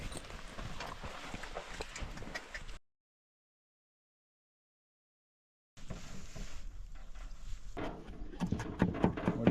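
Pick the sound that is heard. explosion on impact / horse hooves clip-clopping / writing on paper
horse hooves clip-clopping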